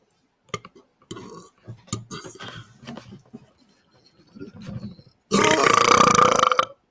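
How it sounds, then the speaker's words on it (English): After several short scattered vocal noises, a person lets out one long, loud, rasping belch lasting over a second, close to the microphone. "Okay, one more burp."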